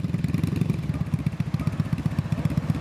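Honda VF 750 C Super Magna motorcycle engine running steadily nearby, a deep, even low-pitched throb with regular pulsing and no one talking.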